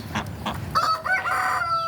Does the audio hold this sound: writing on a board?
no